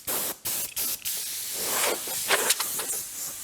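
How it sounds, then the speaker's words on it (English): Compressed air from a compressor hisses loudly and close by, sputtering in brief bursts at first, then flowing as a steady spray. "Now, okay, I've got compressed air. It works."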